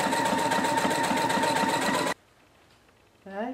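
A sewing machine stitching appliqué runs loud and close with a rapid mechanical whir for about two seconds, then stops abruptly, leaving near silence before a brief voice begins.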